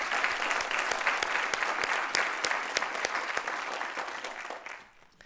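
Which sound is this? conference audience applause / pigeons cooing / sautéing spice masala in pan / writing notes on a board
conference audience applause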